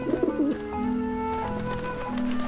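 Pigeons in the video game Grim Fandango Remastered coo in low, throaty bursts. Several calls overlap over a steady tonal game background, close and fairly loud.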